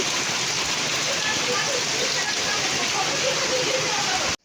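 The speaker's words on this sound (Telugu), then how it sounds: "సడన్గా అయితే వర్షం పడుతుందన్నమాట" Heavy rain pours down in a steady, dense hiss, loud and continuous, then cuts off abruptly at the end.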